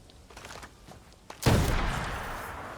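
A single loud, close unsuppressed teppo matchlock gunshot in Assassin's Creed Shadows cracks out after a quiet stretch, its blast tailing off into a sustained rumbling echo.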